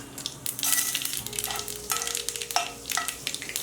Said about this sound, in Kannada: ಕಾಲು ಟೀ ಸ್ಪೂನಷ್ಟು ಸಾಸಿವೆ ಹಾಕ್ಕೊಳ್ಳೋಣ ಒಂದು ಟೀ ಸ್ಪೂನಷ್ಟು ಕಡಲೆಬೇಳೆ